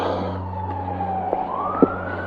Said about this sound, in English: it's noisy down by Merrick Road. Here's some sirens.